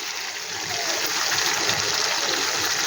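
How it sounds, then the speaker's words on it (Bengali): Rinse water from a bowl is poured into a cooking pan holding a cashew, poppy seed and melon seed paste for a potato dish, a steady close splashing stream lasting throughout. "এই বাটিটা ধুয়ে একটু জল দিয়ে দিচ্ছি।"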